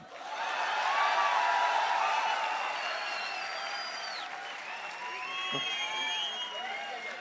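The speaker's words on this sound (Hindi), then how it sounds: "ये तालियां फिर गूंजनी चाहिए आपको अपने महबूब शायर के लिए।" Applause from a poetry-recital audience for the poet Dr. Rahat Indori, a dense, sustained clapping of a large crowd that swells early then holds steady, with scattered whistles over the top and voices mingling in the crowd.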